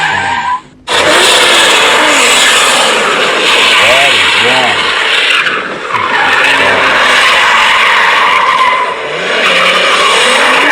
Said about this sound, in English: I bet you guys didn't know that wagons can drift too